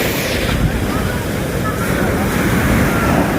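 Big ocean waves surging up to a beach cottage, a dense, continuous roar of surf mixed with heavy wind noise on the microphone, close and loud.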